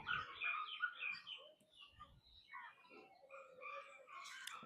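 Several birds call from the Kamati Baug bird enclosure in Vadodara, a busy mix of chirps and short tweets overlapping at moderate distance, continuing steadily with faint background murmur.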